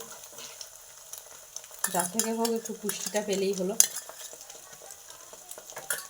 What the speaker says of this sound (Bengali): বাটার দিয়ে একটু ডিম ভেজে দিলাম